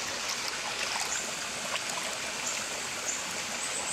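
Steady rush of flowing waterfall stream water, continuous and fairly close, with a bright splashing texture and no voices.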